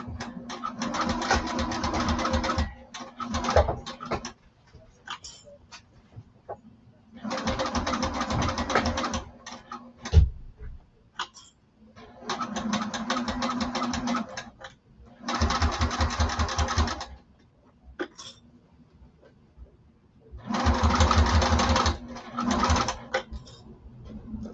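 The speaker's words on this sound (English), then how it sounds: "So we're gonna sew." Sewing machine stitching the lining of a duffle bag around a curve, running in several steady bursts of a few seconds each with short pauses between, close and fairly loud, with a low hum underneath.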